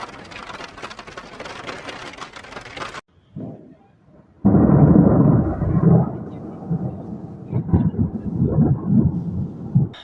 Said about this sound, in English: sorry about the noise, obviously the rain which is now starting to come down